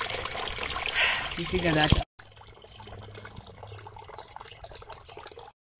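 Water runs or pours while someone fetches it during the building of a chicken coop, a steady trickling wash that is loud at first, then quieter, with a voice talking over it.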